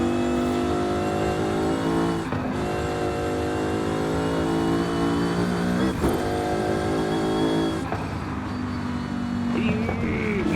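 A high-pitched BMW M5 V10 engine in the video game Forza Horizon 5 revs hard and loud, climbing and dropping in pitch as it shifts through gears several times. No one talks.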